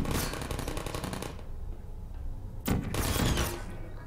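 Turrets in Portal fire rapid, evenly spaced automatic bursts, one long volley, a brief pause, then a second loud burst near the end.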